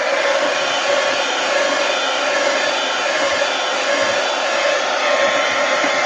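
A hair dryer blows steadily and loudly on a watercolor painting in permanent ink, a constant close whoosh with no break and no talk.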